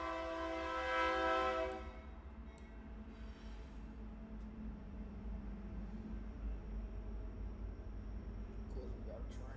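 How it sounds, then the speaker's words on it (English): A train passes at a distance, its horn sounding loudly for the first couple of seconds before fading into a steady low rumble of rolling cars that continues to the end. "Of course, we got a train coming by."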